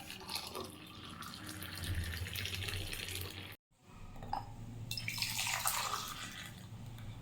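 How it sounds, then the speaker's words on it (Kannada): Heated water is poured in a steady, soft stream onto milk powder in a glass, cut by a brief pause, then resuming with bright splashing. "ಇದಕ್ಕೆ ಕಾಯಿಸಿಟ್ಕೊಂಡಿರೋ ನೀರು ಹಾಕೋಣ"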